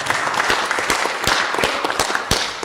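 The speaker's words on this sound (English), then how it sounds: "Let's give them a round of applause." Applause on a state House floor, with a dense crowd of clapping hands sounding steady and fairly loud throughout, with no speech over it.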